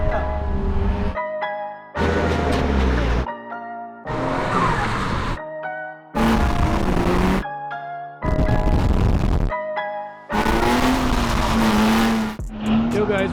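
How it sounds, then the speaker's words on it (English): A BMW E36 drifts at Zolder circuit, engine bursts alternating with sharp tire squeals in repeated loud segments separated by brief gaps. "We are with the E36 at the circuit of Zolder again for another practice day."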